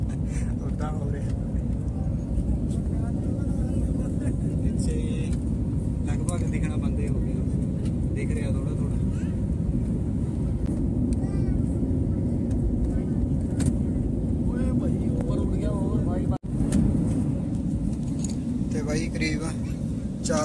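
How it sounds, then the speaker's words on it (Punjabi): Airliner climbing out on a flight to Dubai, heard from inside the cabin as a steady, loud engine roar and rushing drone throughout, with people talking over it. "ਪਲੇਨ ਸਾਰਾ ਚੱਕ ਹੋਇਆ ਵੇ ਪਿੱਛੇ ਤੇ ਟੇਢਾ ਹੋਇਆ ਵੇ ਐਨ ਉੱਪਰ ਨੂੰ ਜਾ ਰਿਹਾ ਜੀ"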